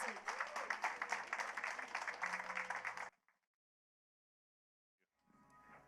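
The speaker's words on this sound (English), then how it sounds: "Big round of applause" Applause from an event audience greets a speaker, a brisk burst of clapping that cuts off abruptly, followed by silence and then low background sound.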